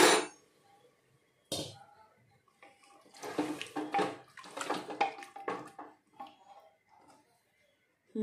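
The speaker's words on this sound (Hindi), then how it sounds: "जिन्ने असीं चावल आए उन्ना ही असीं पानी पावांगे" Water poured into a cooking pot of soaked rice for pea pulao, a sudden splashing pour at the start, then a longer run of pouring and sloshing with clinks, fairly close and moderately loud, with no talk.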